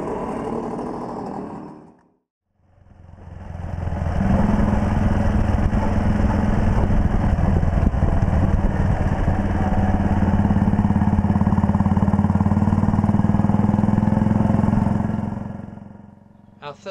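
A rebuilt engine, probably a motorcycle's, runs steadily after a brief pause, a loud continuous mechanical hum that holds even for over ten seconds before cutting off.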